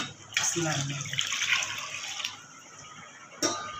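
Water splashes and pours into a cooking pot of rice, measured at one and a half pots of water per pot of rice, in a few close, uneven bursts with a short gush near the end.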